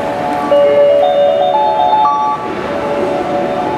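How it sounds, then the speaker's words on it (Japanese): A JR West train, series 321 or 221, rumbles in at platform 5 of Osaka station while a bright melodic chime rings out over the steady low rumble. "5番乗り場に電車が参りますご注意ください"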